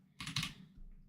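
A few quick key taps on a computer keyboard, a short close burst of clicks followed by a softer tap, faint and alone.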